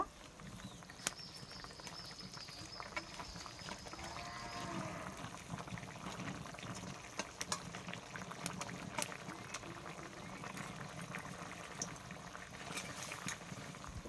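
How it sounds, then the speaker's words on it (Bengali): Curry gravy with rohu fish and eggplant bubbles at a steady boil, a soft continuous burbling with small pops, faint and close, with no voices. "ঝোলটি খুব ভালোভাবে ফুটতে শুরু করেছে এখানে আমি মাছটা দিয়ে দেব"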